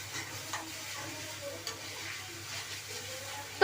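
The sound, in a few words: stirring chicken makhni with butter in pan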